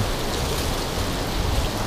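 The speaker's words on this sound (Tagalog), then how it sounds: "Napakalakas ng ulan." Heavy rain pours down during a storm in Singapore, a dense, steady hiss of drops hitting surfaces, loud and close without a break, with no talking.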